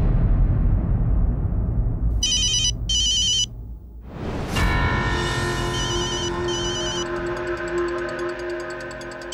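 A phone ringtone sounds in two short electronic bursts, then after a deep whoosh it rings again in a repeated warbling pattern over a dramatic background score, loud and close.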